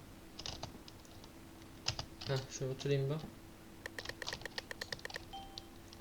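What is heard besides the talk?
computer keyboard typing close to microphone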